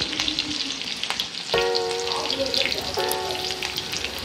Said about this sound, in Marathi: आणि हिरवी मिरची घेतलेली होती ती टाकून घेऊया। थोडीशी फ्राय होऊन देऊया